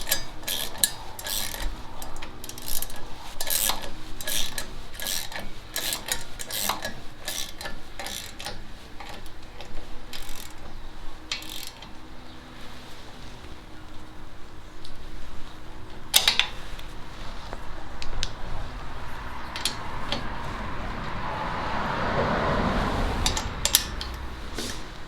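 Ratchet wrench tightening a nut on the steering arm bolt of a car's front suspension, producing rapid repeated metallic clicks in bursts with short pauses, close and fairly faint.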